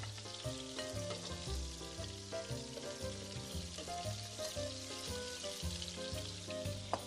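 Meatballs for Italian wedding soup browning in a hot pan, a steady close sizzle and crackle of frying running unbroken beneath a prominent layer of background music.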